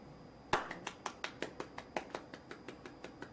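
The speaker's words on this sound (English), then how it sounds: "So if I clap my hands like this" One person claps their hands rapidly and evenly, about five sharp, close claps per second. The first clap is the loudest and the rest follow in a steady run with no voices.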